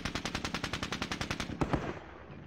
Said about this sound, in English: let's get a machine gun